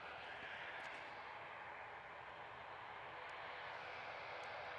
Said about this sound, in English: ATR is rolling